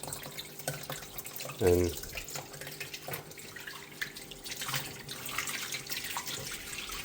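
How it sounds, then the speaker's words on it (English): Tap water runs steadily to rinse sand for a 130-litre aquarium rebuild, a constant wash of flow with a brief louder splash near the start and someone speaking quietly over it. "So at the moment I've got the water running to help wash the sand"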